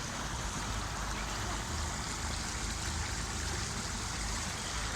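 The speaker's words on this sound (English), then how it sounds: "Don't you love the sound of running water?" Running water at Lake Pillans Wetlands in Lithgow gives a steady, even rush that holds at a moderate level throughout, with no voices.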